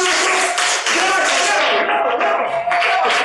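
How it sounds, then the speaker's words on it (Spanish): A classroom of pupils applauds their teacher: loud, dense clapping from many hands close by, with voices shouting over it and the clapping thinning briefly midway before surging again. "¡Un aplauso!"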